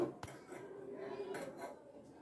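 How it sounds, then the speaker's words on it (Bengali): A cooking pot set onto a small gas stove burner in a home kitchen gives two quiet, close clinks of metal against the stove, with little else around them. "এর মধ্যে আমি হাঁড়িটাকে বসিয়ে দেব"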